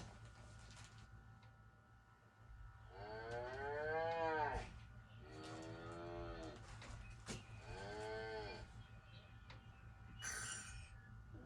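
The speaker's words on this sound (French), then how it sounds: "Vache." A cow moos several times in a row, long drawn-out lowing calls, fairly close and clear over a quiet steady background, with no talking.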